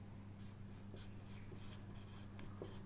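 Chalk or marker scratching across a board during a spoken English grammar lesson, a series of short scraping strokes in an irregular rhythm over steady background hum, with no talking.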